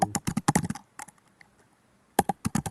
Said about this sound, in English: Miranda, you sound like you're angry at your keyboard.